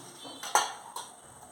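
A metal lid set onto a pot of kodo millet payasam, making a couple of quiet clinks and clatters, close by with no talk.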